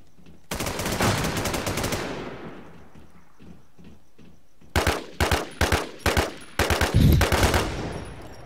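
Video game gunfire: a long loud automatic burst that fades out, then after a pause a series of short, evenly spaced rapid bursts, close and punchy.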